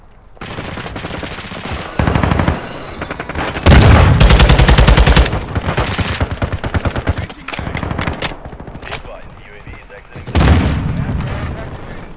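Rapid automatic fire from a TAQ-56 rifle in Modern Warfare 2 rings out in several loud bursts across a match, with sharp boom-like shots and clattering echoes, interspersed with brief pauses and game effects.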